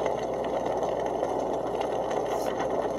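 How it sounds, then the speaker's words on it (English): A portable white noise machine for sleeping plays its thunderstorm and heavy rain setting: a steady, dense, even hiss of pouring rain that runs unbroken at moderate volume with nothing else heard. "thunderstorm, heavy rain."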